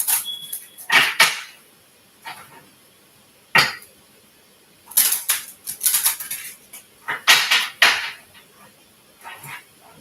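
Repeated bursts of crisp riffling and clattering, like a deck of tarot cards being shuffled several times up close, with short pauses between.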